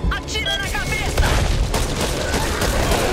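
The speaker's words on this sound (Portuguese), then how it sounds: "Atira na cabeça." Gunfire crackles in the zombie shooter Back 4 Blood, with rapid overlapping shots and booms under a loud, busy game mix that also holds a voice from the game.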